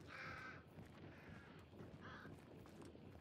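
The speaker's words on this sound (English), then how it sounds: "can you see the crows going up and down when you get closer?" Crows caw twice in a Crytek video game, two harsh rasping calls about two seconds apart over a quiet rustling and footstep background.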